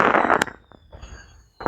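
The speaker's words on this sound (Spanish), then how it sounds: "fuegos artificiales, candela." Fireworks going off outdoors, a dense crackling burst of pops up close, then a quiet gap with faint distant bangs and one last sharp crack at the end.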